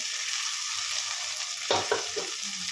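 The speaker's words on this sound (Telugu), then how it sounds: "పచ్చి వాసన పోయేంత వరకు ఫ్రై చేసుకోవాలి." Steady, close frying sizzle in a pan of fish curry masala, a constant bright hiss with a few soft stirring knocks near the end and no talk.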